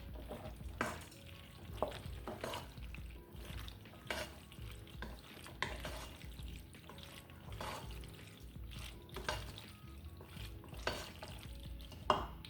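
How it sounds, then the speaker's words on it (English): Cream of mushroom soup thinned with whole milk being stirred in a pan, a steady scraping swirl of spoon against metal with soft liquid sloshing, close and moderately quiet with no talking. "So I'm just going to stir this around."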